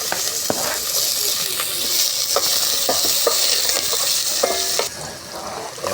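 Garlic and ginger sizzle and hiss in hot oil in a pan for beef papaitan, a steady loud frying under irregular clicks and scrapes of stirring, with no one speaking.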